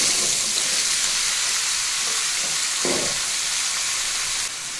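Mixed vegetables hitting hot oil in a pan while cooking a vegetable dish, giving a loud, continuous broadband sizzle and hiss that stays steady throughout, with no talking.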